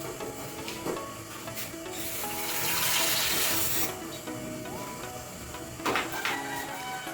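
Tap water pours into a pot for a sweet potato (kamote) pudding. The flow rises to a rushing splash for a few seconds in the middle of the clip, then fades back to quiet kitchen sounds.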